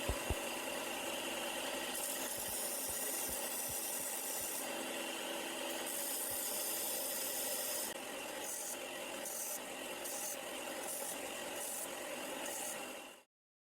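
A hand file works a titanium screwdriver bit for a Leatherman tool, giving steady, close rasping strokes that run continuously before stopping abruptly at the end.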